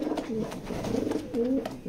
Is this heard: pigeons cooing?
yes